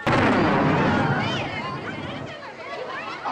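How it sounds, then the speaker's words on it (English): A bomb goes off in a film scene, a loud booming blast right at the start that rumbles and fades, with voices talking over the dying noise. "Roosevelt, Marble Land, the bomb worked great."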